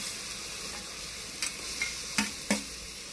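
Chopped tomatoes go into a hot pan for a spicy village-style chilapi fish curry, frying with a steady low sizzle while a spoon scrapes and stirs in four short knocks, with no talking.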